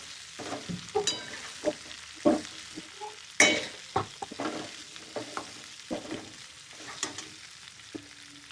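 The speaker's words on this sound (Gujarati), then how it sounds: "થોડીક વાર હલાવવાના ઢોકળાને." Steamed dudhi muthiya (bottle gourd dumplings) being stirred in a hot pan. A spoon makes repeated irregular scrapes and clatters against the pan over a soft, constant sizzle, close up and without talk.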